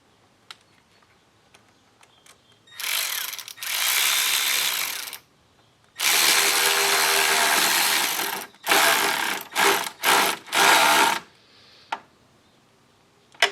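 A clamp being tightened on an APR cone air filter on an Audi intake, heard as several close, loud bursts of rapid ratcheting, separated by short quiet gaps and a few small clicks.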